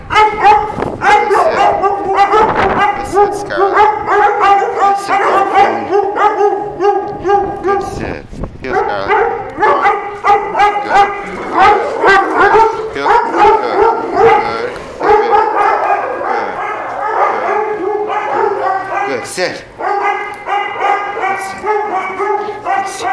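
Several dogs at a training session bark and yip over and over. The barking is loud, close and nearly constant, with a person talking underneath.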